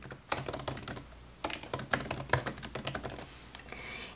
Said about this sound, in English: If you just click and drag, you will make a text box and you can just start typing.